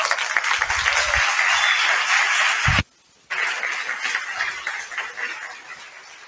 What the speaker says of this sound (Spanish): Un aplauso muy fuerte para todos ellos.